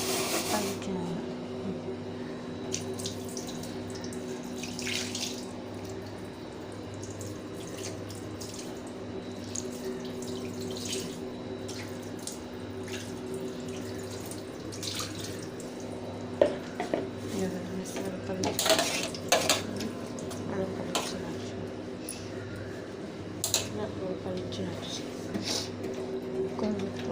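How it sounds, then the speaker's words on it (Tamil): Dishes being washed with soap under a running kitchen tap, water trickling steadily, with scattered clinks and clatters of pots and utensils and a few louder knocks, while someone talks over it. "இந்த சோப் போட்டு கழுவுங்க"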